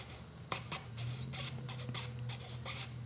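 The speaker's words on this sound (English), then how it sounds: "that's where I start with the jeweler saw. And just get it in there, and we start cutting." Tiny jeweler saw with very fine teeth cutting a plastic model part, giving short, quick rasping strokes in an irregular rhythm, close and faint over a low steady hum.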